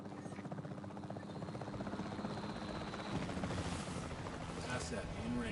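Capture team helicopter in Jurassic World Evolution 3, its rotor thudding steadily and loudly throughout, mixed with game sounds and voices talking.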